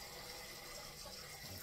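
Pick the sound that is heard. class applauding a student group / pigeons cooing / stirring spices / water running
water running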